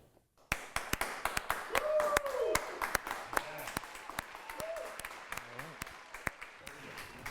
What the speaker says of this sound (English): please give a huge round of applause for Brandon Napier.